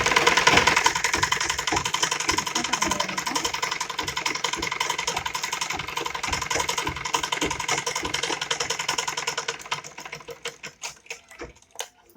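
A sewing machine stitches a small night suit in a fast, even mechanical chatter of needle strokes that runs steadily and close, then slows into separate clacks near the end. No one speaks.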